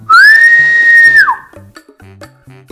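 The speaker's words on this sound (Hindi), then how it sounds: "जोर से एक सीटी मारा" A single loud, sustained whistle blast held steady for about a second before trailing off, followed by faint scattered knocks and background sounds in a comedic scene.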